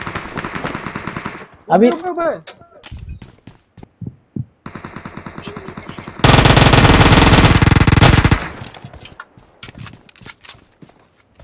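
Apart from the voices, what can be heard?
gunfire in video game PUBG Mobile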